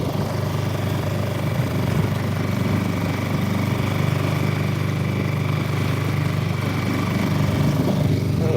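A new 2025 Suzuki 6HP outboard boat motor runs steadily at its first startup, a constant close engine drone with a buzzing hum and no breaks or voices throughout.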